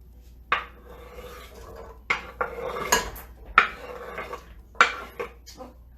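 A knife chops vegetables on a cutting board for homemade vegetable broth in a family kitchen: a handful of sharp, separate chopping knocks spaced a second or so apart, close and fairly loud over a low hum.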